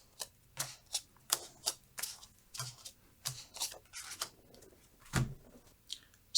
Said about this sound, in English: dealing 3 cards face down to each player